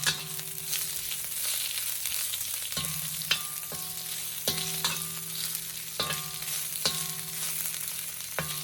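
Thinly sliced beef sizzles steadily in a hot pan for beef with broccoli, with a utensil scraping and stirring at intervals over the constant crackle.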